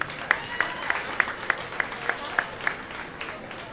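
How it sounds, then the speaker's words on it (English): An audience at a Jamaica 60 launch reception in New York applauds the Prime Minister of Jamaica, with a moderate round of clapping and some sharp individual claps standing out, while a voice speaks over it. "I'm going to ask you to give him another big round of applause"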